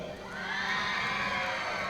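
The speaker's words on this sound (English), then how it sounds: "Jun also getting a good cheer. Very high-pitched cheer." A high-pitched crowd cheers and whoops for a youth speed climber at a climbing world championship in Arco, a dense, steady roar that swells in the first half-second and holds loud throughout.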